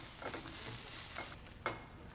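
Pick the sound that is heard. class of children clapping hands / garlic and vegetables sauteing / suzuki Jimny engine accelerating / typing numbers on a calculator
garlic and vegetables sauteing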